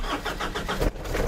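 A Ford Ranger diesel engine cranks and catches, settling into a rough, close running idle over about a second, with no voices heard.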